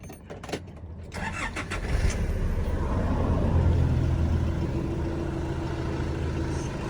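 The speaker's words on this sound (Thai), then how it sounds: "ติดเครื่องให้ดูครับ" A 2013 Nissan Navara pickup's engine cranks after a few clicks, then catches and settles into a steady, rumbling run close by.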